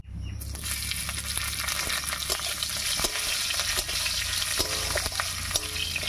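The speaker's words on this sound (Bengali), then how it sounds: "কাঁচা লঙ্কাগুলো ভাজা হয়ে গেছে" Slit green chillies fry in hot oil over a black cumin and radhuni tempering for a vegetarian kochu shak dish, giving a steady, dense sizzle with occasional stirring clicks throughout, close and without talk.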